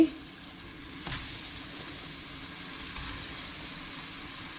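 Chicken kebab frying in hot oil at home for lunch, a quiet, continuous sizzle and crackle with a soft clatter near the start, no voices.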